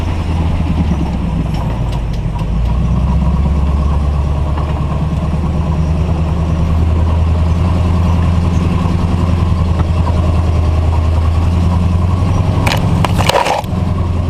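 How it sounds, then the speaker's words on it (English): A tow truck wrecker drives through woods with a buggy in tow, its engine a steady low drone and heavy rumble throughout, with brief crunching bursts near the end. "when you're driving the wrecker through the woods, towing a buggy, you need to keep your focus on where you're driving"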